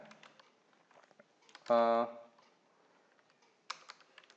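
Quick clicking keystrokes on a computer keyboard while HTML and CSS code is typed, tapping in short bursts beneath nearby talk and a brief hummed voice.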